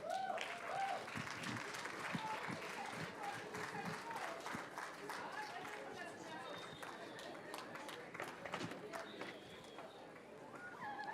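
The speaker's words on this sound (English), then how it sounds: "A round of applause, a round of applause." Steady applause from a graduation luncheon audience at a school Grade 12 ceremony, dense clapping running throughout with voices and crowd chatter mixed in.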